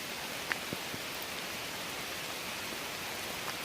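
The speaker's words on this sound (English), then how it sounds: "I'm standing in a thunderstorm right now." Steady rain hisses all around in a dense, even wash during a thunderstorm on the Appalachian Trail near Killington, with a few sharper drop taps standing out early on.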